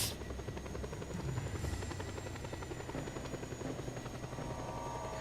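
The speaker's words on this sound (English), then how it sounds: "Air Force chopper arriving shortly." An Air Force helicopter arriving in the video game Just Cause 2, its rotor giving a steady, rapid chopping drone with a faint whine on top, continuous and moderately distant.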